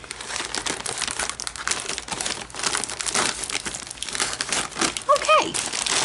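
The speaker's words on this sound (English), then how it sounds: "what I'm going to do is place this packaging off" Plastic packaging from a Temu order crinkles and rustles continuously as it is handled close up, with irregular crackling bursts throughout and a brief voice near the end.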